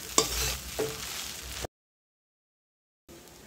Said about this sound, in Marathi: ते मस्त हलवून घ्यायचं, परतून घ्यायचे चांगले पोहे।